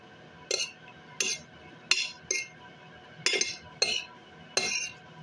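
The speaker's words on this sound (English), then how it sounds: "So I'm going to just stir it up." A utensil stirs pasta salad in a bowl, giving a series of sharp, close clinks and scraping knocks at irregular intervals, about eight distinct strokes with quiet gaps between them.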